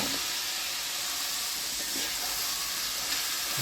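Water splashed into a hot pan of well-fried ash gourd pieces sets off a steady, fairly loud hiss of steam and sizzle that holds evenly throughout, with no talking.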